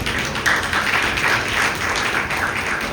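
A church congregation at a Sunday worship service claps steadily for about three seconds, a dense, even patter of many hands at moderate loudness with no talk over it.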